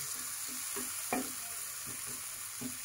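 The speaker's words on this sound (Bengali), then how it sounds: "পেঁয়াজটা ভালো মতো কষছে" Onions fry in a pan for a Bengali bata fish curry with a steady close sizzle, while a spatula scrapes and stirs in short strokes about every half second, with no talking.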